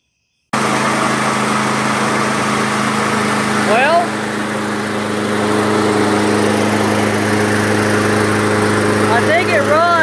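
A Toro PT-21 self-propelled lawn mower engine, freshly revived after carburetor cleaning, runs steadily and close by with a constant droning hum, while a person briefly speaks over it.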